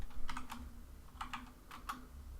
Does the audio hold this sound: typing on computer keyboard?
yes